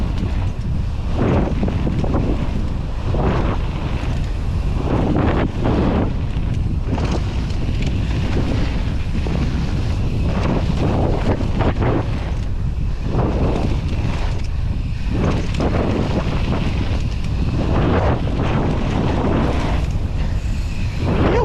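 Loud, constant headwind roars and buffets across the microphone of a rider on a mountain bike trail at a bike park, gusting in waves with no talk.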